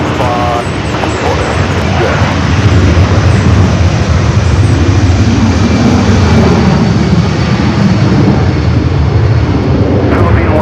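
Airliner jet engines roar loudly and steadily at LAX as a Philippine Airlines heavy lines up on runway 24 left, a continuous broad rumble with a voice talking over it.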